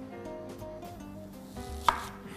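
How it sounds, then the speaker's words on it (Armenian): A knife chops onion finely in quick, light taps on a board, close and fairly quiet, ending with one sharper knock. "Շատ մանր կտրատում ենք։"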